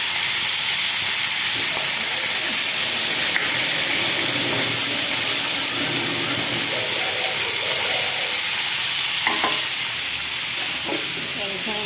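Curry being sautéed and stirred in a pan while cooking with magur catfish, a steady loud sizzle and frying hiss running throughout with occasional scraping stir sounds, up close.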